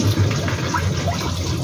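Tap water runs steadily into a sink while fish is being washed, a continuous close splashing stream with no voices over it.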